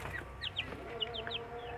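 A Bangkok and kampung chicken crossbreed rooster clucks in a quick series of short, sharp calls at close range over faint background noise.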